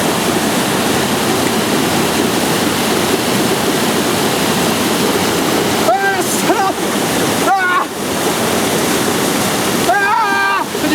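Loud, constant roar of a waterfall rushing nearby in Canada, with brief bursts of voices shouting over it toward the end.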